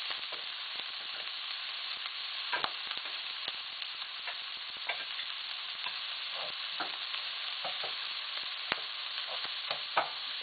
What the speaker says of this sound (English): Then we're going to add our diced tomatoes. Do not drain your tomatoes.